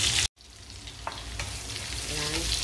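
Garlic and ginger sizzling in a hot pan, a steady loud frying hiss after a brief pause, with occasional stirring scrapes.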